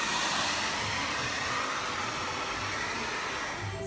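A hair dryer blows steadily on curly hair, a close, loud, continuous whooshing hum heard alone from start to finish.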